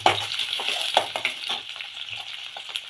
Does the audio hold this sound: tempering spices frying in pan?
yes